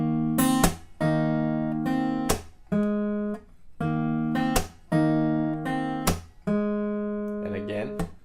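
An acoustic guitar plays a bar of a song, a series of sharp strummed chords with brief gaps between them, some ringing out and one ending on an open G, close and clear.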